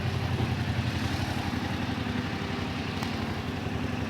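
A 2022 Yamaha R7 motorcycle engine idles close by, a steady low rhythmic thrum with light mechanical clatter, even and unchanging for the whole stretch, with no talk over it.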